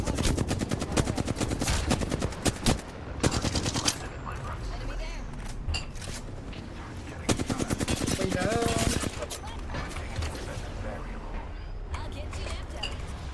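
Rapid automatic gunfire in Apex Legends, long bursts of sharp repeated shots with brief pauses between them, loud and close, with players talking over the shooting.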